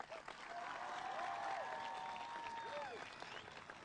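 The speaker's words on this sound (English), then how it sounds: "Graduates, please give your family a huge round of applause." Graduates at a 2015 Poly High School graduation ceremony applaud their families, a steady sustained round of clapping and crowd noise that fills the hall, with whistles or cheers rising above it.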